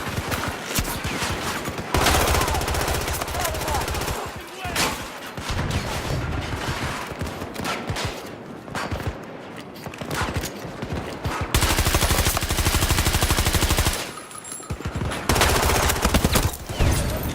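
Sustained automatic gunfire rattles through Battlefield 2042, loud and close in long heavy bursts broken by brief lulls, with dense volleys returning near the end.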